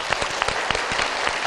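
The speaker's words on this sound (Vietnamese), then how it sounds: "Một tràng vỗ tay cho bạn Triệu." A game show studio audience applauds, dense continuous clapping with a steady rhythm, close and fairly loud, no voices.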